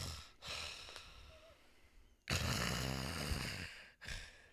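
A voice imitates someone snoring, with breathy snorting inhales and rasping exhales in a slow uneven rhythm, close and fairly quiet, the later breaths louder.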